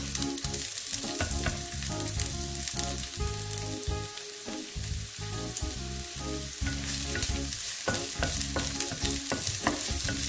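Garlic sizzles and fries in a pan for pancit canton, a steady loud crackle with stirring scrapes throughout, no voices.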